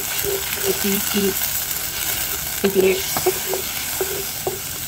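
Spiced masala with ginger-garlic paste, cumin, chili, turmeric and cardamom frying in oil in a pan for a pointed gourd and mustard curry, a steady sizzle under scraping stirs and a few brief knocks.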